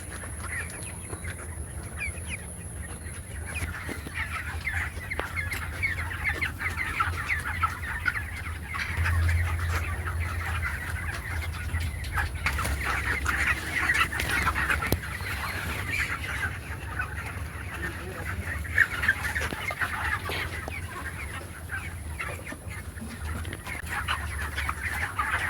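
Chickens on a poultry farm clucking and calling on and off throughout, moderately close, over a steady low hum of background noise.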